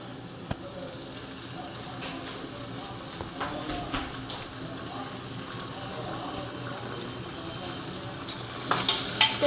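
Pasta in a pressure cooker being stirred together with tomato ketchup, a soft scraping and bubbling sizzle with scattered spoon knocks that grow louder and busier near the end.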